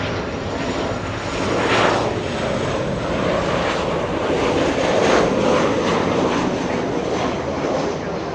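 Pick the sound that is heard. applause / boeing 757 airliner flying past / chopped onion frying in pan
boeing 757 airliner flying past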